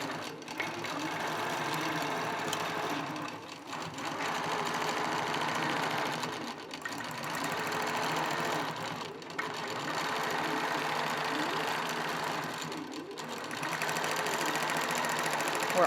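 An embroidery sewing machine stitches quilting motifs into fabric, a steady mechanical whirr running continuously with brief dips where the stitching pauses or shifts between sections.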